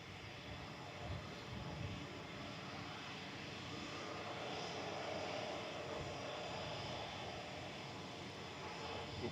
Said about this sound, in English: You see Kuwait just arriving in the background there from Kuwait City.